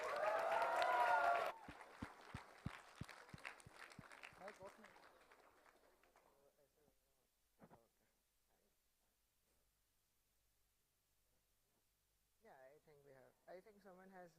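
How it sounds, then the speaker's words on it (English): Applause from a conference audience at a machine learning tech talk, a short loud burst that quickly breaks into a few sparse, distinct claps and dies away, followed by quiet and then people talking. "Give a big round of applause for Jeetal."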